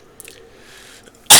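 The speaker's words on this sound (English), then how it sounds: "I'm sorry about the cough, folks." A single sharp, loud cough bursts out at the very end, after a stretch of quiet with faint rustling.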